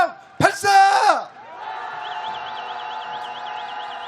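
Marchers at a candlelight protest march let out a loud, brief collective shout, followed by a sustained wavering siren-like tone from a noisemaker or amplified sound.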